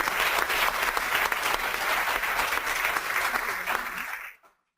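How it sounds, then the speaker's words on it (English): An audience at a chemical-safety policy session applauds loudly and steadily for several seconds before the clapping stops abruptly. "give EPA a big round of applause"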